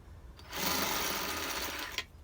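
A steady high-pitched whine of a drill bit boring into a metal spacer held in a vise, about a second and a half, close and fairly quiet, ending with a sharp catch.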